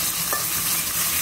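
Magur catfish frying in hot oil in a home village kitchen, a steady close sizzle and crackle running throughout with no voices.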